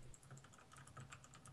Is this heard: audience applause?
no